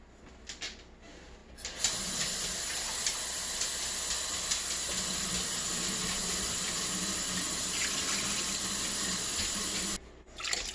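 Steady rushing stream of water pouring into a pot for about eight seconds, close by, with brief clinks before and after.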